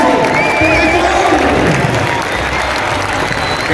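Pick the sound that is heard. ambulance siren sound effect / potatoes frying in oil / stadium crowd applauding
stadium crowd applauding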